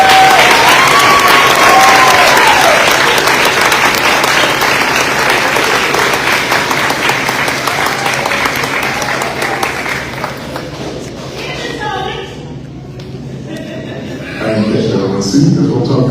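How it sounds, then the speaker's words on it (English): Audience applause fills a school's fifth grade promotion ceremony: loud, dense clapping from a crowd, sustained and slowly thinning toward the end before a brief renewed swell, with no speech over it. "please help me give all of them a round of applause"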